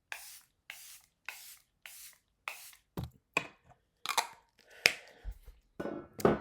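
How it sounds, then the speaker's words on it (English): Five short hissing spritzes of Charlotte Tilbury setting spray in a steady rhythm, each a quick puff of mist, followed by some soft handling clicks and rustles. "Then I'm going to use my setting spray from Charlotte Tilbury."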